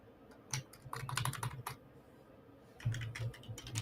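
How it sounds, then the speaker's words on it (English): Close computer-keyboard typing in two quick bursts of clicky keystrokes separated by a short pause, with no talking. "Let's see if we type in question."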